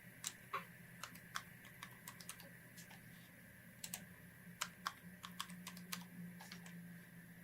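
Keys are tapped on a computer keyboard to enter a new voicemail PIN code, a quiet, uneven string of light clicks, close up and with no talking.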